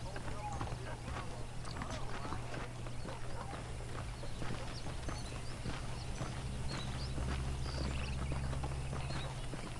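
Horse hooves clip-clop at a steady walking rhythm in the Red Dead Redemption video game, with speech throughout and a low steady hum beneath.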